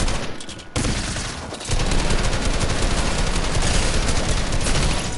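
Sustained automatic gunfire from the video game Fortnite, a continuous loud fusillade of rapid shots after a brief quieter start, with no talk over it.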